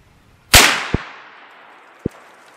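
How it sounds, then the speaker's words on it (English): A 350 Legend rifle fires a single loud Hornady American Whitetail round outdoors at a range, the sharp crack followed by a long fading echo, with two faint clicks or distant pops trailing after. "Let's send two more of these Hornady American Whitetails."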